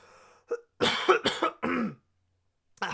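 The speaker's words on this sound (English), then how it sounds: "I feel like a cough coming." A few quick throaty coughs, close and fairly quiet, followed by a short pause and the start of another sound.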